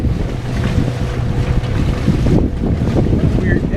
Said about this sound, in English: The wind is going back and forth.